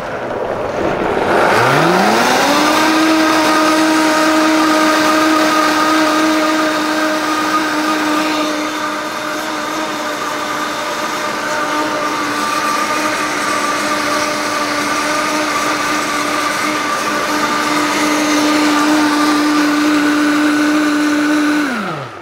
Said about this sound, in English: Now, the better your blender, the more creamy your pudding